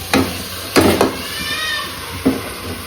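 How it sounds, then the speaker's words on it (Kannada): Rice added to a hot frying pan in a home kitchen, a steady soft sizzle with a few sharp clattering scrapes and stirs. "ನೆಕ್ಸ್ಟ್ ನಾನು ಅಕ್ಕಿ ಹಾಕ್ತಾಯಿದ್ದೀನಿ."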